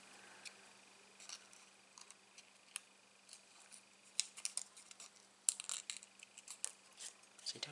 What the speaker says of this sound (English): I'm going to grab my scissors, actually.